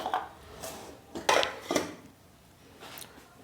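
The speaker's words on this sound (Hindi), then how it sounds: "तो आलू को छोटे पीस में काटेंगे" Knife chopping a potato into small pieces: a few sharp, separate clacks against the board, irregularly spaced and fairly close, with quiet gaps between them.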